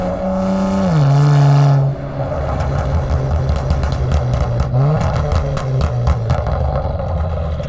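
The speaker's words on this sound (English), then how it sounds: "The Kia Stinger being straight pipe now is the loudest thing I've ever heard." A straight-piped Kia Stinger blares close and very loud, holding a high rev that drops to a deep idle before rising again into a run of sharp, crackling exhaust pops.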